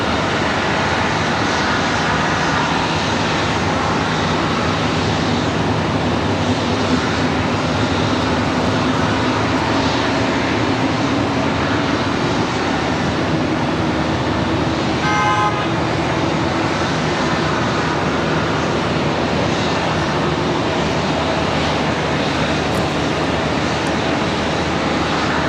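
An Amazon cargo jet at Charlotte Douglas airport roars continuously and loudly, its engine noise a thick steady wash that swells slightly and never lets up.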